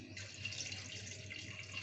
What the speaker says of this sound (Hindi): अब मैं इसमें इतना पानी डालूँगी कि ये जिसमें गल जाए। पानी मैं अंदाजे से डाल रही हूँ